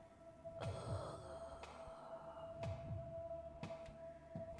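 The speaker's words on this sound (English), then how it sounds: "we hear heartbeats" Heartbeat in the horror video game Fears to Fathom: Home Alone, slow paired thumps repeating about once per second over a constant low hum, quiet and ominous with no talking.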